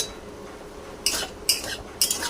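A spoon stirring spicy semolina (suji) in a pan, giving three short scraping clinks about half a second apart over a faint quiet background.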